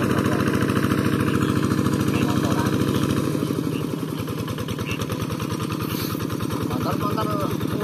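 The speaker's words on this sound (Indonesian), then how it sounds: "Motor kuno-kuno itu lho." An old vintage motorcycle engine running, a rapid, steady mechanical putter with a firm pulsing rhythm that eases slightly in the middle, close by and loud, with people talking over it.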